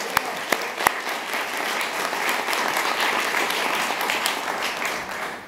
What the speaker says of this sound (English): So let us congratulate one another for our efforts and applaud the class of 2019.